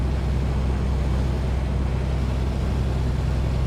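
Piper Comanche 250 piston engine in Microsoft Flight Simulator 2024, a steady low droning hum with constant loudness and no break, heard alone without voices.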